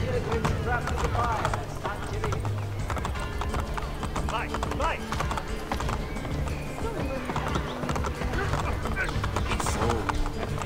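Galloping horse hooves clip-clop rapidly and steadily throughout, loud and close, over busy ambience in the video game Assassin's Creed, with a brief horse whinny.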